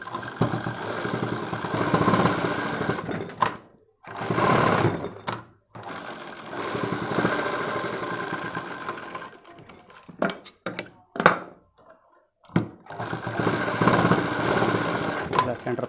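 A sewing machine stitches bra fabric in loud, steady running bursts, stopping briefly and starting again between seams, close up.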